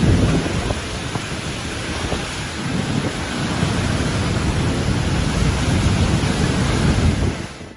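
Heavy rain pours steadily with deep rolling thunder during flooding in Oman, a loud, dense wash of noise that fills the whole stretch without a break and fades at the very end.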